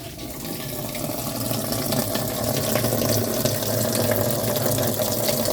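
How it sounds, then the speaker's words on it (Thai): Water runs steadily from a tap into a Sharp ES-TW70BL twin-tub semi-automatic washing machine, a continuous, fairly loud rushing flow that stays even for the whole stretch with no voices. "เปิดน้ำ"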